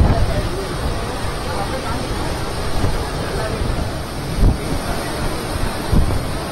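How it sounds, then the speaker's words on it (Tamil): Rough sea waves pound the shore at Mamallapuram as a cyclone crosses the coast, a loud, constant roar of surf and gusting wind buffeting the microphone, with occasional heavier thumps and murmuring voices underneath. "புயல் கரையை கடந்தபோது மாமல்லபுரத்தில் கொந்தளித்தது கடல்."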